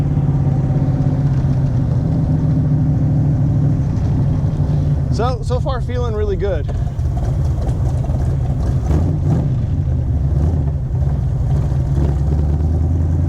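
A Shelby Cobra fitted with a Tremec T5 gearbox drives on the road, its engine running loud and steady throughout, with the pitch rising as it revs. Someone talks briefly over the engine.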